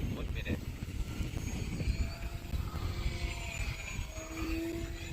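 A 4S Fun Cub RC airplane flies in wind, its small electric motor droning steadily at moderate distance, shifting pitch as it is pushed hard, with wind noise and someone talking over it.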